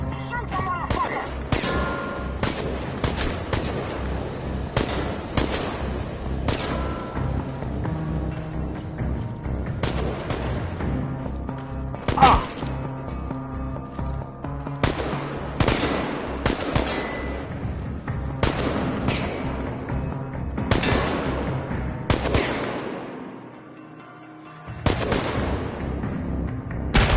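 Rapid gunfire and explosive bursts from the video game Marvel Rivals, dense loud volleys of shots crackling almost continuously, with a brief lull near the end before firing resumes.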